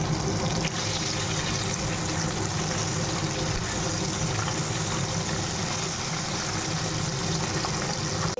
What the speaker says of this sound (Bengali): ভাতের জলটা বসিয়ে দিই।